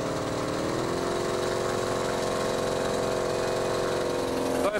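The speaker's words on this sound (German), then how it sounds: "dann das erlösende Geräusch. Der Motor des Deutschen läuft." A small German aircraft engine at a French air show runs steadily and loudly throughout, a continuous droning hum with no pauses.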